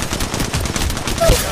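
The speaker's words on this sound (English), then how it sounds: "A second squad is firing at us." Machine gun fire from an enemy squad in a video game, with dense rapid bursts crackling continuously, slightly distant and mixed with game ambience and faint voice chatter.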